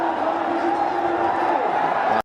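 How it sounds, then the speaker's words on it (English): A stadium crowd roars steadily for a big six at a Bangladesh versus West Indies T20 cricket match, the cheering holding at an even, loud level before it cuts off abruptly. "And the crowd erupted."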